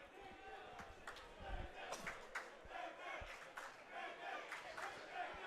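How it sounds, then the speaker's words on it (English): A Long Beach State home crowd at a college baseball game against UCLA, bottom of the seventh inning, makes a sustained, fairly distant roar of cheering with scattered shouts and whistles rising and falling throughout. "Dirtbag crowd is getting involved here in the bottom of the 7th inning. Their cheers tried to will that ball over the head of the UCLA center fielder"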